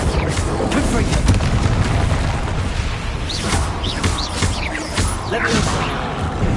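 Confringo fire spell blasts in Hogwarts Legacy, heard as repeated heavy booms and crackling bursts over a continuous loud rumble of combat, with a voice speaking partly underneath.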